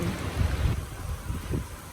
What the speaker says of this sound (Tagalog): so yung ambon niya, tuloy-tuloy na siya hanggang lumakas